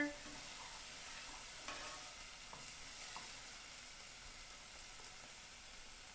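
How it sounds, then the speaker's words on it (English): Onions sizzle softly in a pan while being stirred, a quiet steady frying hiss with a few faint scrapes and clicks of a utensil, no voices. "Give it a little stir."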